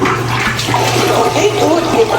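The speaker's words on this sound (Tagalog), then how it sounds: "Tapos ito po yung toilet bowl, dual flush." Dual flush toilet bowl in a newly finished house flushing with a steady, loud rush of water, a voice speaking briefly over it.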